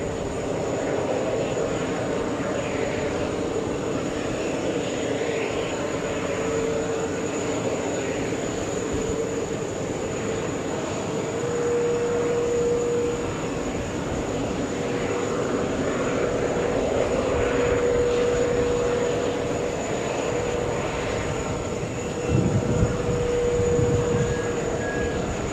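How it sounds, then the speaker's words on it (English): A Boeing 787 airliner from Sydney via Auckland comes in on short final at JFK, a sustained, moderately loud engine drone with a steady tonal whine and a brief low rumble near the end. "We have the Australians on short final, 787. It's Sydney to JFK with a stop in Auckland."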